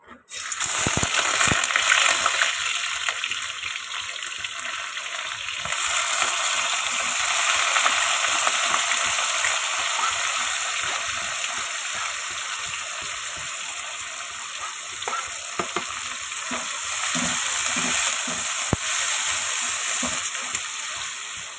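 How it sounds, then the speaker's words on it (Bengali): A pan of onions fries with a loud, constant sizzling hiss, broken by occasional soft clinks and pops, with no talking. "পেঁয়াজটা কিছুটা ভাজা হতে থাকুক"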